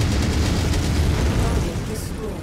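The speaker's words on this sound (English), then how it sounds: "I love the chain cannon." A chain cannon fires in the MechWarrior 5: Mercenaries video game, producing a continuous run of heavy, booming low-end blasts with a rumbling, explosive texture. The barrage eases slightly toward the end.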